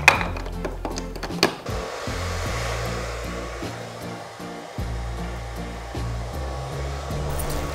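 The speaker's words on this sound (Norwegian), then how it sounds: "da kan du få prosessen til å gå litt fortere med å føne med en hårføner" A handheld hair dryer blows steadily and close to dry latex special-effects makeup on skin, a continuous whooshing roar with brief dips and shifts as it is moved, and no one speaks.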